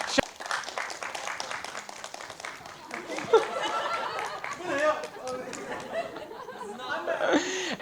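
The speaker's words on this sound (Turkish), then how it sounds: "arkadaşlarımızı alkışlarla yerine uğurluyoruz." Theatre audience clapping as performers return to their seats after an improvised comedy sketch, scattered chatter and laughter mixed in, with people talking over the moderate, uneven applause.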